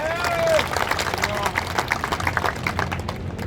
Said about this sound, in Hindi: मोदी जी के लिए जोर की तालियां